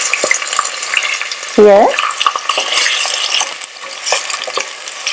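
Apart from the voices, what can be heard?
onion frying in oil in a pressure cooker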